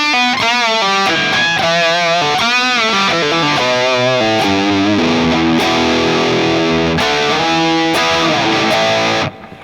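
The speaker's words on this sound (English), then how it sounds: "So that's quite a lot more distortion, which is good for this kind of pedal setup." Heavily distorted electric guitar through a distortion pedal and MXR 6 Band Graphic EQ plays a loud, continuous riff with sustained chords and bends, no voices.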